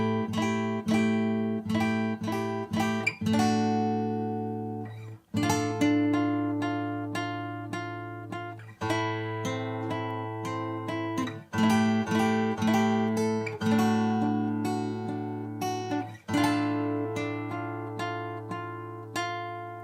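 An acoustic guitar plays a main theme fingerstyle, slow and steady, with plucked notes and chords ringing over bass notes, close and alone.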